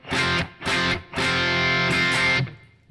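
Distorted electric guitar power chord with C on the bass, F as the root and one string muted, strummed in a few loud chopped hits and then left ringing, heard alone without talk.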